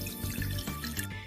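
Half a cup of water poured for a sugar syrup makes a steady, close, trickling splash that runs without a break and is heard alone.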